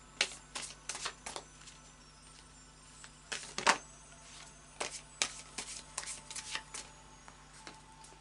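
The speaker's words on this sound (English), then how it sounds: "we'll just do a final shuffle of the Anna K Tarot." A deck of Anna K Tarot cards being shuffled by hand, quiet close riffles and soft snapping card flicks arriving in short irregular bursts over a faint steady hum.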